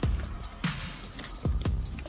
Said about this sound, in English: There's so many zips that it just clangs away.